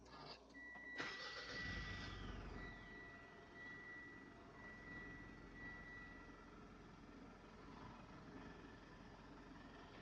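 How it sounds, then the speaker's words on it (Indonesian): A Mitsubishi Pajero Sport 2.4 diesel, a 2017 automatic, starts from the push button: a short starter crank catches into a steady, fairly quiet modern diesel idle with a faint high whine, heard from close by. "nyalain mesin cukup di pencet ini tombol start stop engine buttonnya"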